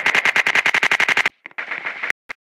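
Rapid automatic gunfire from an Alliance vs Axis shooter video game: a loud, close burst of evenly spaced shots runs for over a second, followed by a few scattered single reports and brief gaps.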